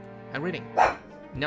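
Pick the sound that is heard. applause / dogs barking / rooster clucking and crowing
dogs barking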